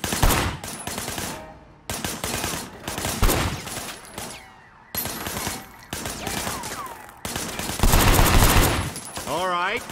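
Rapid bursts of gunfire in the video game Sleeping Dogs, loud and close, with repeated volleys and single shots in choppy bursts over several seconds, and a voice briefly audible among the shots.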